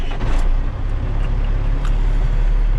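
Truck engine idling steadily after being started for a DOT roadside inspection, a loud, continuous low rumble filling the scene without pause.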